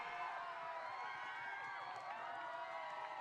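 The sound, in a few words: crowd cheering at esports grand finals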